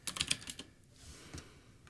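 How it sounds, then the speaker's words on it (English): Typing on a computer keyboard while working in a console, a fast burst of close, crisp key clicks followed by a few scattered, softer taps. "I type something somewhere."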